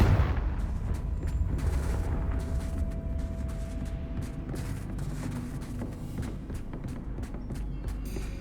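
Confringo fire spell blasts from Hogwarts Legacy, a dense rolling roar of fiery bursts and rumbling impacts that stays loud and continuous throughout, with sharp crackling transients scattered across it.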